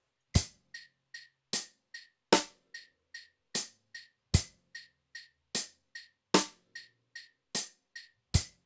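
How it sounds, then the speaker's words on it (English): Drum kit playing a loped quintuplet beat with a second hi-hat part added: crisp hi-hat ticks fall in repeating groups of five, with heavier kick and snare hits marking each cycle in a steady, even loop, close and alone. "now we're going to add our second hi-hat"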